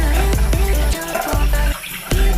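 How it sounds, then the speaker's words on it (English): Boiled eggs being rinsed under running water, a steady broadband splash of tap flow with a few sharp knocks from the eggs or pot, fairly loud and close, with no talking. "Okay, let's wash the egg."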